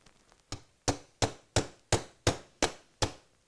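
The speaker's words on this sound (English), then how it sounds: "the first thing I gotta do is knock out that pin" A steel pin holding the mainspring housing in a 1911 pistol frame is knocked out with about eight sharp, evenly spaced hammer taps, each a loud close crack.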